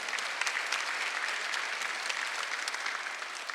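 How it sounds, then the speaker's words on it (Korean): A church congregation applauds during a Sunday worship service, steady, dense clapping from many hands that fills the room evenly and holds at a constant level throughout. "박수하세요."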